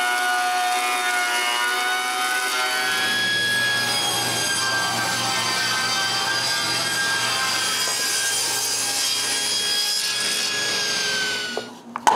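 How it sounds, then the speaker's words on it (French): A wooden 2 by 6 board is surfaced and cut to width in a home workshop, a loud, steady machine whine with a ringing, rising tone carrying through the cut before spinning down at the end. "La première chose à faire est de le surfacer et de le couper à bonne largeur."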